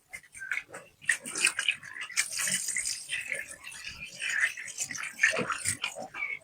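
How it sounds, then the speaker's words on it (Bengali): Running tap water splashes irregularly over hands being washed in a home kitchen, close and moderately loud, mixed with clattering and brief background voices. "আমি হাতটা একটু ধুয়ে নিচ্ছি।"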